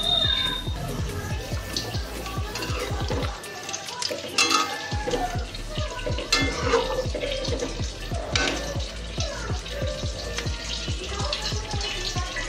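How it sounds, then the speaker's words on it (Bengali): A pot of fish curry broth bubbles on the stove as potatoes and fish go in, giving steady close sizzling and bubbling with scattered clinks and stirring knocks, loud and continuous with a brief lull partway. "বন্ধুরা ঝোলটা ফুটে এসছে, এবার আলু আর মাছগুলো দিয়ে দেবো সব।"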